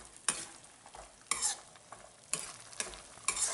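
Dry fruits roast in a pan for 7 cup burfi while a spoon stirs them, giving repeated scraping strokes about once a second over a faint sizzle, close and alone without talk.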